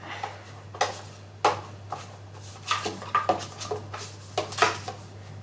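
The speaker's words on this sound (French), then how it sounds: "Allez, je beurre le moule." A small metal cake tin is buttered for a chocolate mi-cuit, with irregular light clinks and scrapes of metal on metal close by over a faint steady hum.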